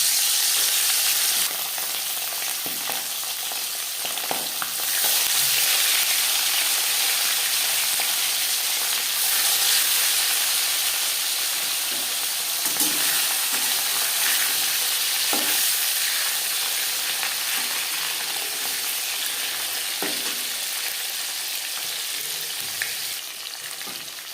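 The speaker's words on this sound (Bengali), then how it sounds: "চার চামচ রিফাইন্ড অয়েল গরম করে নিয়েছি এবার দিয়ে দেব মাছ" Khoira fish fry in hot refined oil, a steady, loud, close sizzle that runs the whole time with occasional spatters and crackles. No one speaks.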